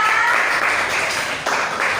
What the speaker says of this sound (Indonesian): beri dulu tepuk tangan buat kelompok 2